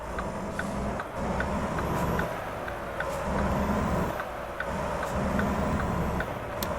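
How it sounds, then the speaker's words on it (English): A Mack Anthem semi truck's engine in American Truck Simulator drones steadily and deep, with a slow rhythmic surge in its rumble and soft road noise throughout, with no talking. "I love the sound of this truck. It sounds proper beefy."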